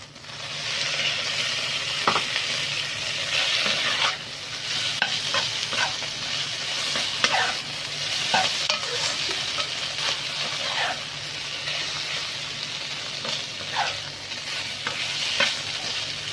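Eel stir-fried in a pan for a spicy Isan-style dish: continuous loud sizzling with repeated scraping strokes of a spatula at an irregular rhythm, close up, no talking.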